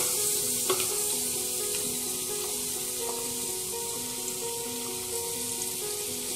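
Crushed ginger and garlic sautéing with onions in a pan for Arabian chicken madhooth, a soft, steady frying sizzle heard alone at low level.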